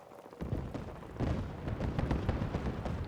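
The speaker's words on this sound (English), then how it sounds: "whatever those explosions are, I should probably go and have a peek" Distant explosions rumble in the post-apocalyptic video game Fallout 4, modded survival mode. Low booms roll in from afar and build in loudness over a few seconds, with no talking.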